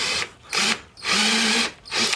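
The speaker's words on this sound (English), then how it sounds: "better drill some pilot holes" A power drill bores pilot holes into particle board for a cabinet, whining in three close, loud bursts with short pauses between them.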